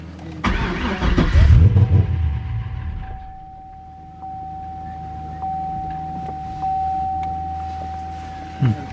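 A Chevrolet Camaro engine cranks and catches, a loud burst of starter churn and firing in the first few seconds, then settles into a steady idle with a high whine under it, close by.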